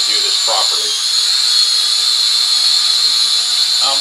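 Cheap toy drone bought off Facebook flies with a steady high-pitched motor whine and buzz throughout, constant and fairly loud, with brief faint sounds near the start.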